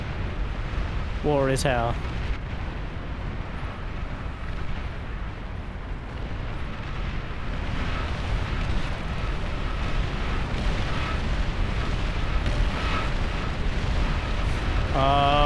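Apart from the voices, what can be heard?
bomber and plasma cannon explosions in Beyond All Reason video game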